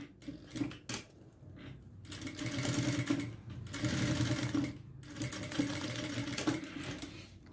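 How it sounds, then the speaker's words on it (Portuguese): Sewing machine stitching the side seam of a small fabric pouch, running in steady bursts of whirring stitches separated by brief pauses, close and clear. "já passo a costura nessa lateral"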